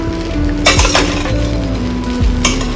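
Spiced idli fry being stirred in a hot pan with red chili and salt, a steady sizzle with a few sharp clinks of a spoon against the pan, close and loud, with no voices.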